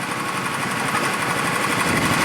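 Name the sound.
gasoline engine of amusement park mini race car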